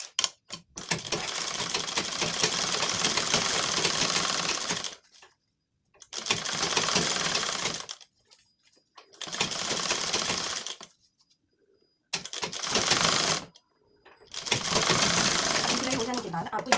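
A sewing machine stitches a blouse sleeve at the shoulder seam in five loud bursts of rapid mechanical whirring, separated by short quiet pauses.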